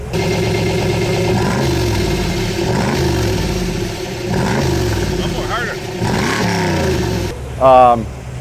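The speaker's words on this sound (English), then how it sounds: "we got a 41 Dodge Command car just went past us" A 1941 Dodge Command car drives past as a steady engine rumble, heard alongside another car's running engine, with a short higher-pitched whine near the end.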